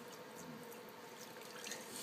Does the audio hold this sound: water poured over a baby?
yes